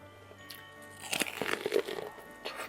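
Crunchy bites into raw Japanese corn on the cob, a few crisp close-up crunches in quick succession against quiet background.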